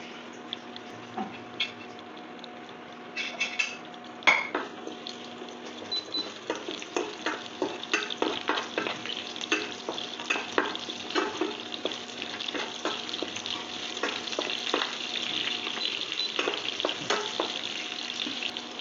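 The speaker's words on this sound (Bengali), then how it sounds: "ওই যে অল্প কটা পেঁয়াজ কুচি ছিল সেটা দিয়ে দিচ্ছি" Chopped onion frying with garlic paste in a pan for a spicy small-potato dum, a steady crackling sizzle with frequent sharp pops and spoon stirring, close and fairly loud, no voices.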